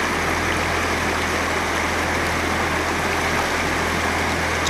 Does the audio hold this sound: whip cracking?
no